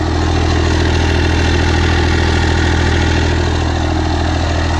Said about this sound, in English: Let's get the first gen started up here first.